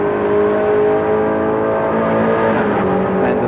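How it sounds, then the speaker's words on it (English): A Nissan Skyline Turbo Group A race car at the 1986 Bathurst 1000, its engine droning loud and close in a steady tone, with a faint shift in pitch as the gearbox changes near the end. "listen to the gearbox in this car as well. It's not the usual 5-speed Geartrack gearbox in most of these Group A cars. Really crunches through"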